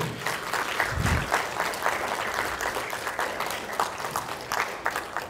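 Audience applause for a speaker from the Universidad de Guanajuato as she is introduced: steady, moderately loud clapping from a seated crowd, continuous throughout with no voices over it.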